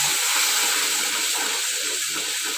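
Whole garam masala spices dropped into hot oil, giving a loud, continuous sizzling hiss that holds steady throughout with no voices.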